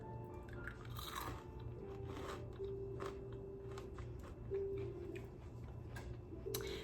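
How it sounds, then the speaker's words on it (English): Close, crisp crunching and chewing of a piece of pan-fried sourdough discard bread seasoned with Himalayan salt and pepper, repeated bites and chews heard over a faint steady background hum. "you're gonna hear the crunch of this fried bread"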